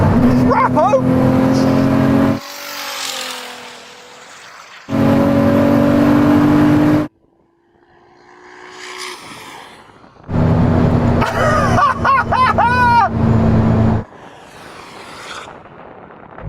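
A 3,000hp SUV and a Ferrari SF90 drag race with loud, roaring engine bursts that rise in pitch through the gears. The roar is broken by abrupt quieter stretches where voices are heard.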